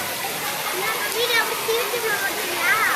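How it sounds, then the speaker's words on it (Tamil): Heavy summer rain pours down in Rasipuram as a dense, constant roar of water, with people talking over it. "ராசிபுரத்தில் கடுமையான மழை, கனமழை, கோடை மழையாக கொட்டி கொண்டிருக்கிறது"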